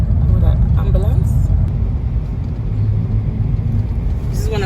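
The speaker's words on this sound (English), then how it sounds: "This is one of the snow plowing trucks." A snow plow truck rumbles past on a snowy street during a big snowstorm, a heavy low engine drone that swells and fades, with a person speaking over it.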